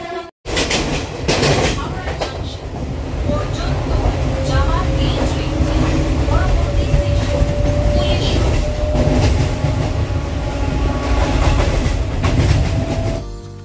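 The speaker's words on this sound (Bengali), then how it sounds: "এই যে বন্দে ভারত ট্রেনটি সাইড কেটে চলে গেলাম, এটা কিন্তু হাওড়া স্টেশন ঢুকছে।" A Vande Bharat Express runs near Howrah station, heard from aboard another train: a loud, continuous rolling rumble and wheel clatter with a steady whine on top, lasting over ten seconds, with faint voices mixed in.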